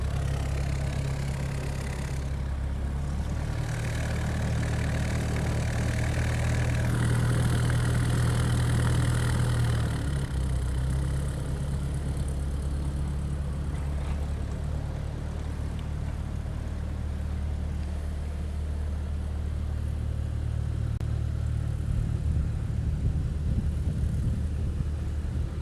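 Engine of a small Cessna light aircraft running close by at a Honolulu airport, a steady loud droning hum with a low rumble and wind-like roar that swells and eases slightly over time.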